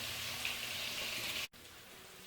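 Garlic sizzles in a pot with beans and cilantro for Dominican rice and beans: a steady, soft hiss of frying that breaks off briefly midway and then carries on without a voice.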